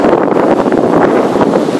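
Strong ocean wind blows at a beach, buffeting the microphone in a loud, continuous rumbling rush with faint surf mixed underneath.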